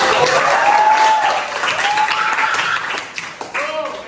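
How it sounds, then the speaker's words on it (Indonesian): A vocational high school class clapping together, a moderate burst that fades toward the end with voices mixed in over it. "Coba tepuk tangannya buat aku."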